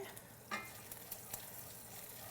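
Bacon fries in a pan with a faint, steady sizzle and a few small pops and crackles, heard alone without any voices.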